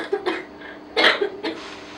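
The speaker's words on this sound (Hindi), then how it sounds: "सॉरी गाइस, मुझे खांसी हो रही है" A woman lecturing on nucleic acid structure coughs several times in short, sharp bursts close to the microphone, with a brief throat-clearing quality between them and no speech.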